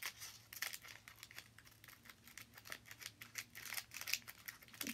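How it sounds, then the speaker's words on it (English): Scissors snip at a foil Pokémon booster pack, giving faint, quick, irregular cutting clicks mixed with soft crinkling of the wrapper, close by and quiet. "If these scissors could cut right, we would be opening them."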